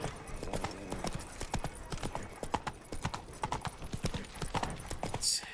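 A horse's hooves clip-clop in a quick, steady rhythm in the PC Next-Gen edition of Witcher 3, loud and continuous over faint game ambience.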